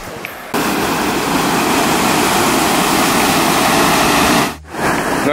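Loud, steady rushing of river water flowing nearby, a broad continuous roar after a brief quiet start, with a short dip near the end.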